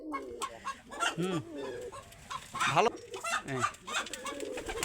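Pigeons kept by a breeder coo and warble in overlapping close calls, mixed with fowl-like clucking and a brief spoken word.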